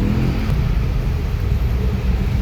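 Afternoon road traffic in Davao City, around two o'clock, near shopping malls and warehouses: a steady, close low rumble of car engines and passing vehicles that stays constant and fairly loud throughout, with no voices.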